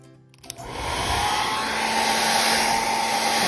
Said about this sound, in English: you're gonna take your hairdryer and you're gonna put it on the high heat mode. Make sure it's on heat. And you're gonna turn it on.